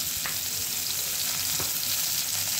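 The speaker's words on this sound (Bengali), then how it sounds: "ফুলকপি আলুটাকে আমি একসঙ্গে ভেজে নিচ্ছি" Cauliflower and potato pieces fry together in oil in a pan, giving a steady, close hiss of sizzling with a couple of faint stirring clicks and no talk.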